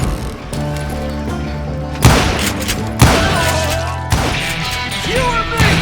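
Gunfire in the Western shooter game Call of Juarez Gunslinger, loud sharp shots and crashing impacts every second or so over a tonal music bed.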